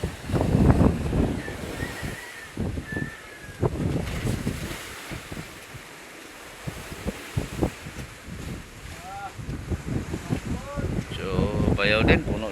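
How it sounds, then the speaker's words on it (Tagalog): Wind gusts blowing across an open sea near a fishing mother boat, broadband buffeting with wave wash, under frequent loud voices talking throughout. "So mahangin naman mga idol."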